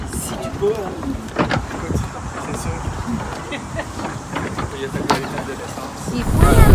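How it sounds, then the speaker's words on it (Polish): A super-fast motorboat skims across water on a Canadian trip, its hull and engine giving a rough, steady rush with wind buffeting the microphone, while people talk nearby over the noise. "przesiadamy się na super szybką motorówę"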